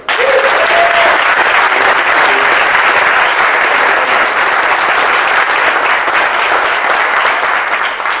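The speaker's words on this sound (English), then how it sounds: "What a great way to start the day with all those applause" Loud, sustained applause from a Toastmasters audience welcoming keynote speaker Joe Duerr, a thick continuous roar of clapping with a few faint voices underneath at the start.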